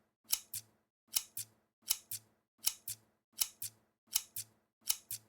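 Scissors snip repeatedly in a steady rhythm, seven quick double-clicks of blades closing through paper, close and crisp with no talk.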